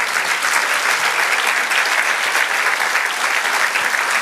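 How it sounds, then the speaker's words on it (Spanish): A church congregation bursts into loud, dense applause during a sermon, a continuous roar of many hands clapping without pause for over four seconds. "Den un aplauso al Señor."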